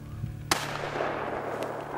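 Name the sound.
rifle shots at a shooting bench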